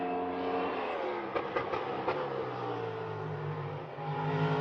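A Cadillac V-LMDH race car's V8 engine roars and revs, with a few sharp blips in the middle over a steady growling drone, then a rising surge at the end.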